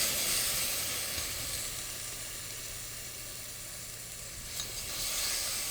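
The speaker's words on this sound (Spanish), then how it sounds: "añadiremos 2 cucharadas de salsa de tomate casero" Two spoonfuls of homemade tomato sauce hiss and sizzle in a frying pan over softened ingredients for beef tacos, a steady close crackle that fades slightly midway and then swells again.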